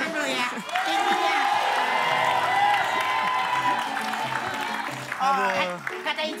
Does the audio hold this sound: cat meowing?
no